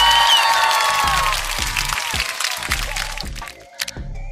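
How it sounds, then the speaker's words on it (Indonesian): Crowd applause and cheering celebrating a 1-0 football win, loud at first with a bright shimmer, then settling into rhythmic heavy thumps and scattered claps that grow quieter. "Kasih tepuk tangan dulu ya."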